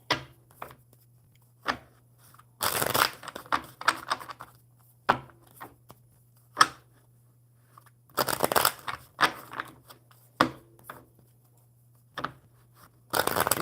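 Tarot cards shuffled repeatedly by hand, coming as irregular bursts of crisp riffling and sharp taps with quiet gaps between, close and moderately loud over a faint steady hum.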